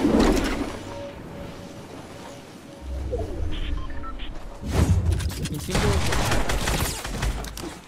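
Gunfire in a shooter video game: rapid bursts of shots near the start and again in a heavier volley toward the end, with players talking over the action.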